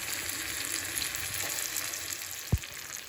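Curry leaves sauté in an oil-filled pan for an egg rice lunch, giving a steady close crackling sizzle throughout, with one short low thump near the end.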